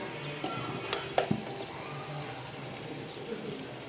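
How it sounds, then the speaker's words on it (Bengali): Ground spices such as turmeric and chili powder sizzle steadily in hot oil in a pan as they are stirred, a continuous close crackling hiss broken by a few light scrapes and knocks of the spoon. "মশলাটা সুন্দর মতো কষাবো"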